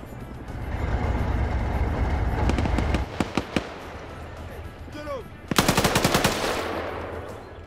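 Video game gunfire in a military survival game: a rumbling vehicle-like background gives way to a few single sharp shots, then a rapid automatic burst, loud and close.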